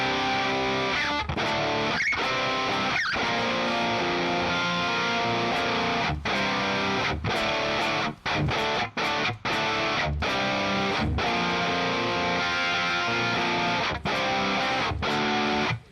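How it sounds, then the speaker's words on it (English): Electric guitar played through the Wizard Amp 2 amp-sim plugin in a modern rock and pop-punk tone, heavily distorted chords ringing loud and continuous, with several sharp stops and palm-muted breaks between strummed riffs. "That's big guitar tones."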